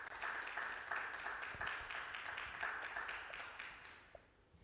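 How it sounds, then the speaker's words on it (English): Audience applause at a Lagos conference, a faint, fairly distant wash of clapping that holds steady, then dies away with a few last claps. "Please give him a round of applause once again."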